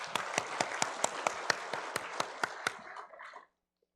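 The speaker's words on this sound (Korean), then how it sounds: "영광의 박수 한번 올리겠습니다." A church congregation applauds during a Sunday worship service, a steady run of claps with sharp individual hits, fading out after about three seconds into silence.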